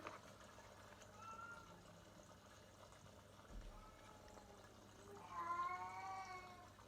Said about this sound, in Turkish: Ay kedi bağırıyor arkadaşlar.